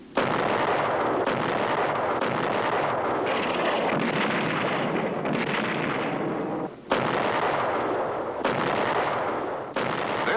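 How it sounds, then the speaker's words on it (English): Heavy naval gunfire support from warship big guns, with dense, sustained booming blasts and rumble running nearly continuously at high level, with only brief dips between salvos. "This is naval gunfire support, a mobile source of big gun reinforcement for friendly troops ashore."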